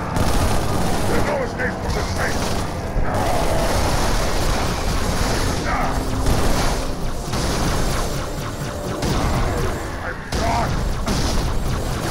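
Halo 3 gunfire and explosions in a dense, continuous battle mix, with booming blasts and rattling shots layered under occasional game voices.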